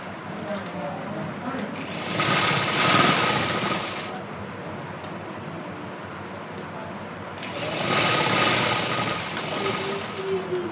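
Sewing machine stitching the shoulder seam of a kurti made from a dupatta, running in two sustained bursts with a steady whirring drone and a quiet pause between them.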